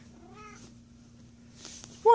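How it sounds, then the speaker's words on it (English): A pet cat gives a single short, rising meow indoors at moderate loudness, followed by a brief pause and the start of another call. "That's my cat, y'all."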